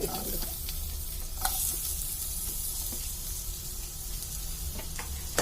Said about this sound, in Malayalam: ഞാനിവിടെ ഒരു പാൻ അടുപ്പത്ത് വെച്ചിട്ടുണ്ട് അതിലേക്ക് കുറച്ച് വെളിച്ചെണ്ണ ഒഴിച്ച് കൊടുത്തിട്ടുണ്ട് ഇനി ഇതിലേക്ക് നമുക്ക് കുറച്ച് സബോള